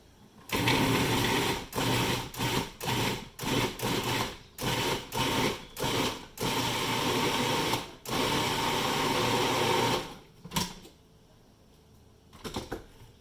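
A blender pureeing tomatoes, first pulsed in a run of short loud whirring bursts with brief gaps, then left running in longer steady stretches before switching off.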